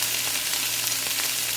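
Vegetables hit a large gochujang tofu stir fry, producing a dense, even sizzle that stays constant and close throughout the short moment, with no voices.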